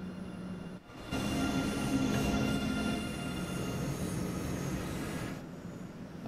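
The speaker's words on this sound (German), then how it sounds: "Oh, der ICE fährt ab." An ICE high-speed train pulls away in Train Sim World 3 on the Munich–Augsburg line, a steady close rumble with electric motor whine that swells after a short pause and holds without any talking.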